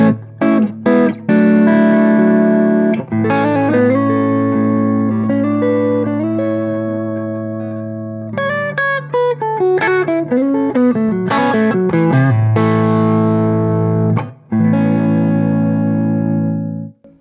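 Electric guitar played through a Hughes & Kettner amp turned all the way up, loud distorted chords and sliding riffs with sustained ringing notes, close and continuous with brief pauses, no talking.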